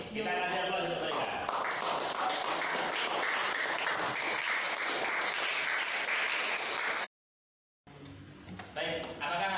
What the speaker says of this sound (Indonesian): Kita kasih aplaus untuk mereka